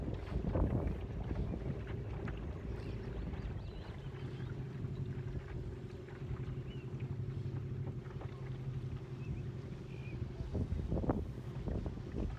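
A very small boat motoring across the water in Stavanger harbour: a steady, close engine drone under constant wind buffeting on the microphone, with occasional splashes and knocks and no talk.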